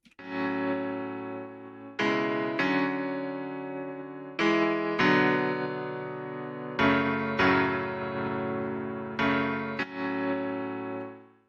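An instrumental remake of a hip-hop beat plays: sustained, rich chord stabs restarting every couple of seconds in a looping pattern, each decaying slowly, with no vocals.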